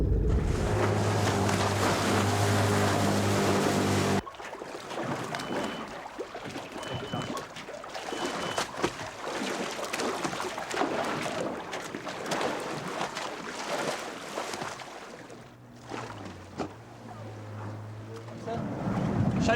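Boat engines run at sea with a steady rumbling drone mixed with wind and water rush, loud and close throughout, briefly dipping near the end, with voices faint beneath.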